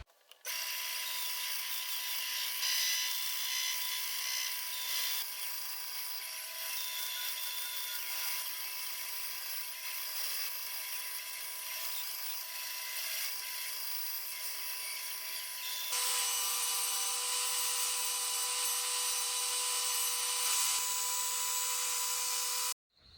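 A power tool, likely a bandsaw or scroll saw, cutting a small wooden mouse-shaped lure body, a continuous faint high-pitched whine and buzz, steady throughout, with a slight change in tone partway through.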